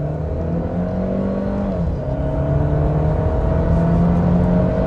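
Mercedes A220 sedan with a 190 hp 2.0-litre inline-four gasoline engine accelerating hard from 0 to 100 km/h, a loud close engine drone with a harmonic pitch that dips at a gear change, then climbs steadily.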